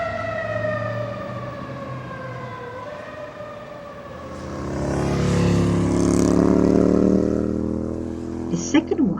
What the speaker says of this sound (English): It has also siren but different from ambulance.